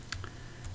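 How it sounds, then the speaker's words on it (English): Quick clicks of keys on a computer keyboard while entering survey angles and distances in AutoCAD, a few separate taps in a quiet room. "I just keep typing."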